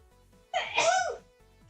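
A single sharp sneeze bursts out near and loud, rising quickly and fading within about half a second, with a quiet background before and after.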